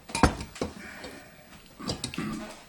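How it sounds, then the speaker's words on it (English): A metal soup pot holding chunky beef and vegetable soup is dragged from the back burner to the front of the stove, with sharp clanks and scraping knocks against the grates followed by lighter clinks. "And we have it here in this pot on the back burner, and we'll pull it up in front."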